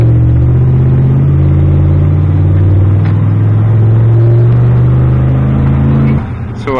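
A Traxxas 3.3 nitro racing engine for a Savage X 4.6 RC truck runs with a loud, steady high-pitched drone, holding tone for several seconds before cutting off abruptly near the end.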